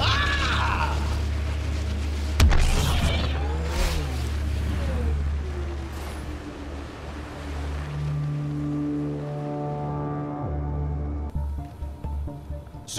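Nomad rover driving in Mass Effect Andromeda: a steady low engine drone with rising and falling whine as it accelerates and bounces over terrain, including a sharp jolt early on, with game sounds layered over it.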